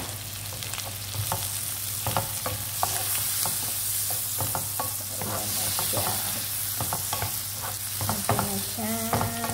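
Tomatoes sauté with egg and onion in a pan, a steady sizzle broken by frequent scraping taps of a utensil, with a brief spoken remark.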